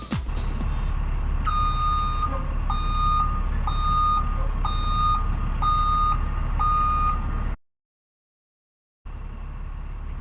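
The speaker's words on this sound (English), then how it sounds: "You are a winner if you said it is a bus or truck backing up." A bus or truck backs up, its reversing alarm giving about seven evenly spaced, piercing beeps over a low engine rumble. The sound cuts out briefly and then returns.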